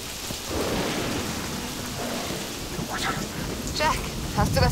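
A steady downpour hisses in the Peter Jackson's King Kong video game, with low thunder rumbling underneath and faint voices breaking in toward the end.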